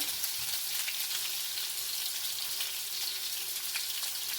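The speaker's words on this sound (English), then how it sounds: "You're going to go ahead and let those sear too." Lamb chops sear in a hot pan with a steady, dense sizzle and popping spatter, close and even from start to finish, with no voices.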